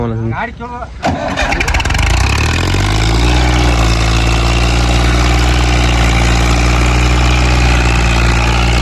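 A farm tractor engine cranks over and catches, then settles into a loud, steady low rumbling idle close by.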